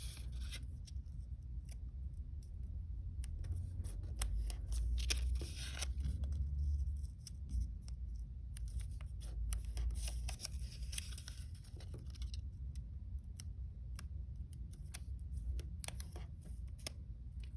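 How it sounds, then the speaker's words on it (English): Paper sheets are folded and creased by hand for a modular origami star, giving soft rustles, scrapes and brief crinkles that repeat irregularly at close range, with no one speaking. "fold in half diagonally, open, fold each corner just to the center"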